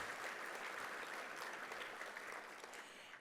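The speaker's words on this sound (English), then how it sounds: "give Ken a round of applause too" Applause from the audience at a World Trade Week 2023 business event in Los Angeles, dense continuous clapping heard from a distance that stays even and then eases slightly near the end.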